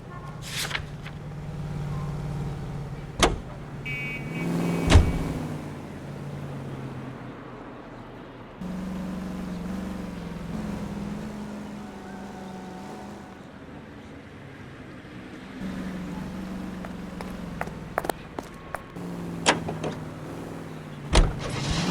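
Car engine hum and road noise while driving in the video game LA Noire, a steady low drone with occasional sharp clicks and brief transient hits, mid-level and continuous without speech.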